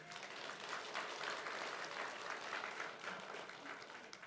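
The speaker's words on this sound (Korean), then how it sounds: "그리고 박수 한번 주십시오." A church congregation applauds in a steady, continuous patter of many hands, moderately distant and sustained evenly from start to finish, with no voices standing out.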